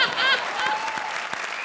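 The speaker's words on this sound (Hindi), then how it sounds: "जरा कामरान के लिए जोरदार तालियां" Studio audience of a Hindi comedy show applauds loudly and steadily, a dense wash of clapping with voices faintly mixed in.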